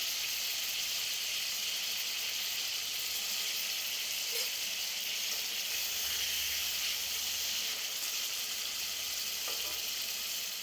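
Fish pieces frying in a mustard spice masala for Bengali sorshe bhola, a steady, fairly quiet hiss of sizzling oil that runs unbroken throughout without talk.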